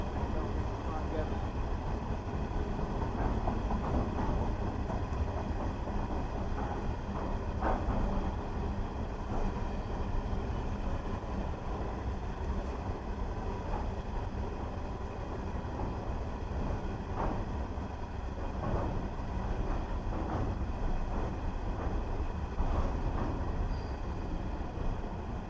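A train with a locomotive at the rear passes through Tarro railway station, a continuous low rumble and rolling clatter of wagons heard at moderate distance, with a person talking over it.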